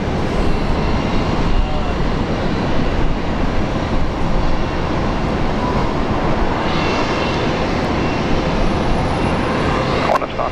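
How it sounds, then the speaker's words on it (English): A departing airliner taking off from Brisbane bound for Canberra gives a loud sustained engine roar, rumbling and steady throughout, with a faint brief click near the end and no clear voices. "Taking off. Heading off to Canberra."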